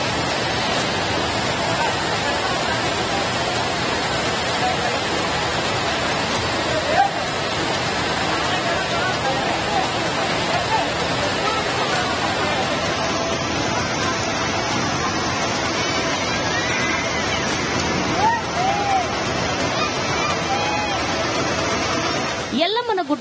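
Torrential rainwater rushes and floods around the Sri Renuka Yallamma hill temple, a steady broadband roar of pouring water throughout, with a voice talking over it.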